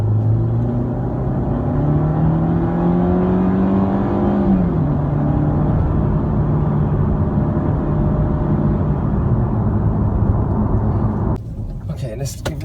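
A Mercedes-Benz W204 C180 fitted with RaceChip XLR tuning accelerates hard, its engine drone climbing in pitch, dropping at a gear change, then holding a loud steady note before a rustling, clattering finish.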